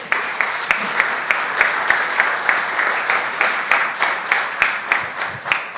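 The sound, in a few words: audience round of applause for award winners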